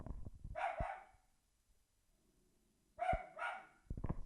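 A pet dog off in the background gives two separate pairs of barks about two and a half seconds apart, with a quiet pause between them and a few soft knocks at the end.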